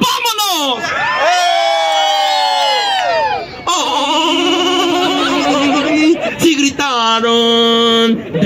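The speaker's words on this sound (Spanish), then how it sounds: "gracias por ese aplauso tan espontáneo de su parte" Show audience cheering, whooping and shouting with high excited voices in loud bursts that swell, drop briefly and surge again, close and lively.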